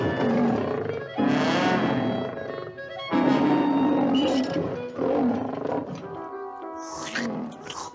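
Tigers roar in a French cartoon, several loud, drawn-out growling roars in succession, strong and close, with a brief higher squeal near the end.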